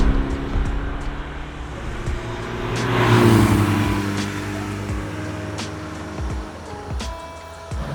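A 1975 BMW 2002 tii runs steadily on the road, its engine humming close and continuous, swelling a little around the middle as it pulls, then settling back to a steady drone.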